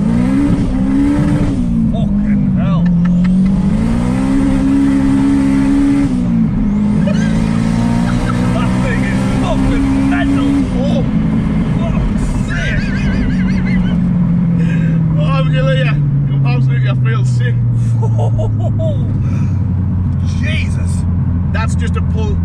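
A 500 bhp turbocharged Honda Civic Type R EP3 pulls hard from second gear, its engine revving up loudly and rising in pitch before easing off, with excited voices talking over it.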